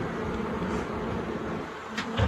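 A steady, dense buzzing of many bees at a beehive hums continuously, fairly close, with no voices.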